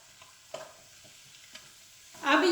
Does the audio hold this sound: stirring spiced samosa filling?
yes